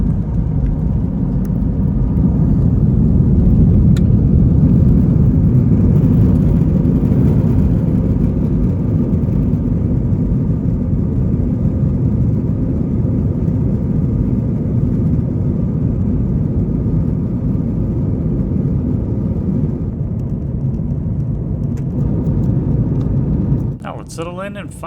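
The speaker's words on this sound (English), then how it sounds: "we're taking off to the east" A Delta airliner's engines during a takeoff roll heading east, heard from the economy cabin as a loud, steady low roar and rumble that holds throughout and eases near the end.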